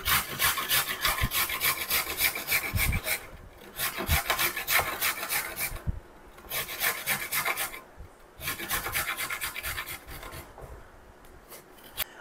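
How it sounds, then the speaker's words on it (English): Fresh garden carrots rubbed over the coarse side of a grater make repeated rhythmic rasping strokes, loud and close, with brief pauses between runs. "So I'm just going to give these a rough grate here."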